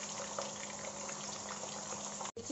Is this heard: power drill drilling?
no